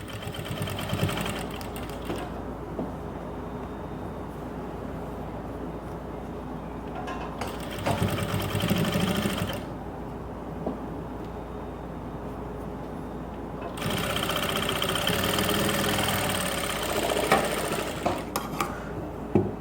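A sewing machine stitching a designer blouse at a class, running in steady whirring bursts that stop and start several times, close up and clear, with no talking over it.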